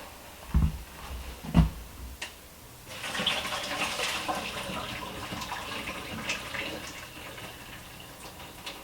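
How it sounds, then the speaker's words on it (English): Water from cooked mac and cheese noodles pours out into a sink as the pot is drained. Two dull knocks come first, then a steady close splashing rush that gradually thins out. "first we are going to drain the water right out of the mac and cheese"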